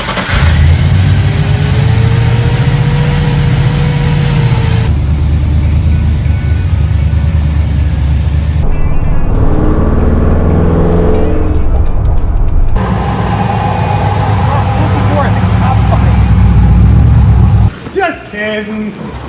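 A Chevelle engine with a cold air intake runs and revs loudly nearby, a deep steady drone with shifts in pitch and a stretch of rising revs, while people talk over it in a garage setting.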